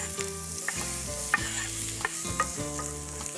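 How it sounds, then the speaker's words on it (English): Chopped onion sizzles in olive oil in a pan, a continuous crackling fry with a few sharp clicks and scrapes from stirring, close up and without speech. "A little bit of olive oil into your pan, followed by your chopped onion."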